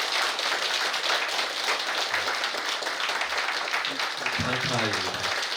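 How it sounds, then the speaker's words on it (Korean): An audience at a Buddhist bodhisattva precepts ceremony applauds in a dense, steady wash of clapping that lasts throughout, with a voice starting to speak under it near the end. "박수로"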